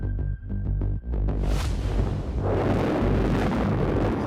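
Iranian Shahab-3 ballistic missile, a design based on North Korea's Nodong-1, launching with a loud, deep rumbling roar that swells after a brief rhythmic start and then holds as a sustained, broad thunder.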